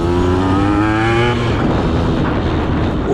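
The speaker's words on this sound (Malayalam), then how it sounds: "എന്താ സൗണ്ട് നോക്കുന്ന വണ്ടി ജസ്റ്റ് ഒന്ന് വലിപ്പിച്ചു കൊടുക്കാം" A modified 2002 Yamaha RX 135 two-stroke motorcycle fitted with an aftermarket expansion chamber revs hard up close, its rasping engine note climbing and then breaking into a rough, crackling roar, loud and unaccompanied.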